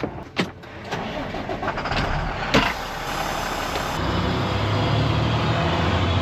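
A farm truck engine turns over with a few clunks and rattles, then catches and settles into a steady rumbling idle nearby.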